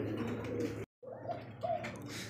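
A male red Lahori pigeon, paired with a female, gives low, rumbling coos close by, broken by a short silence partway through; no one speaks.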